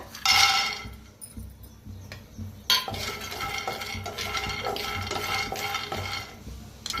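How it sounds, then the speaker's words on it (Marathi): Peanuts dry-roasting in a kadhai on the gas, with metal stirring scrapes and light clinks over a faint crackle, close and moderately quiet. "आता आपण शेंगदाणे भाजून घेऊया।"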